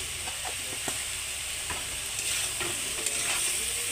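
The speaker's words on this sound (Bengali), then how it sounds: "এবার কিছুক্ষণ মশলাটাকে কষিয়ে নেব সবজির সাথে।" Cumin and turmeric powders being sautéed with vegetables in a pan, giving a steady close sizzle under repeated scraping and stirring of a utensil, with no speech.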